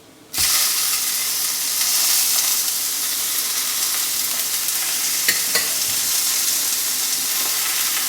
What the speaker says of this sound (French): Je vais faire cuire mes steaks.